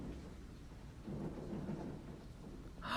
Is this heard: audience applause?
no